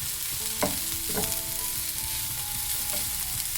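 Onions fry quietly in a pan with a soft, steady sizzle, and a few light scraping strokes of a spoon stir through them near the start.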